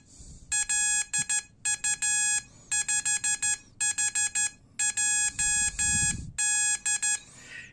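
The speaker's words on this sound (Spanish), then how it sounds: "Usado de esta manera se puede convertir en un timbre, en una alarma" Bursts of an electronic buzzer tone, high-pitched and harmonic-rich, sounding in rapid beeping groups separated by brief pauses, loud and close.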